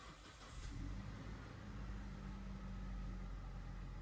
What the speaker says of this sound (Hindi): इंजन स्टार्ट स्टॉप बटन जो कि यहाँ पर लोकेटेड है, इसको आपने प्रेस करना है और गाड़ी आपके लिए स्टार्ट हो जाएगी।